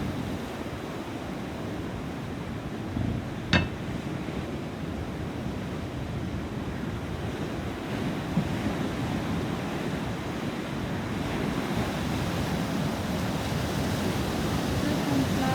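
Sea waves wash continuously on a very large, nearly deserted beach, a steady broad rush of surf with some wind noise on the microphone and one brief sharp click, with no talking.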